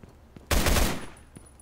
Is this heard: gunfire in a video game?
yes